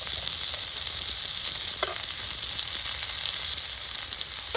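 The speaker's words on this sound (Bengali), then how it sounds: "এখন আমি এই যে ডাঁটা আর আলুটা কেটে রেখেছিলাম দিয়ে দিয়েছি তেলের পরে" Chopped stems and potato pieces fry in hot oil with spices in a pan, a steady close hiss and crackle that runs without a break, with one small clatter partway through and no one talking.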